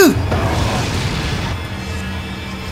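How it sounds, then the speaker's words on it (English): A flash grenade goes off in Resident Evil 4, a sharp loud boom at the start that decays into a lingering ringing rumble, with game sounds and a voice underneath. "A flash grenade?"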